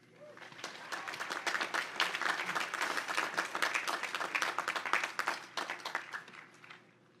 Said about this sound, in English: So please show your love and appreciation with a round of applause.